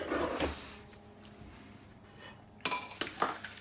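Dishes and cutlery clinking while someone cleans up during omelette cooking, a soft clatter early on, a quiet stretch, then a sharp burst of several clinks near the end.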